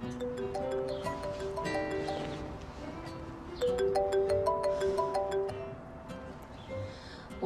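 A phone ringtone plays for an outgoing call in a home kitchen, a repeating melodic tone pattern in two bursts, fairly faint against a soft background with no talk.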